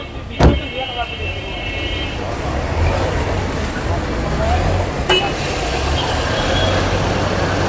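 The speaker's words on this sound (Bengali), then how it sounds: "গাড়ি কিন্তু স্টার্ট আছে দেখছেন সাউন্ড স্মুথ" A 2009 Toyota Raum's engine idles in a smooth, steady hum, with a sharp click near the start and another partway through, and voices nearby.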